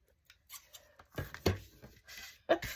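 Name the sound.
scissors cutting paper circle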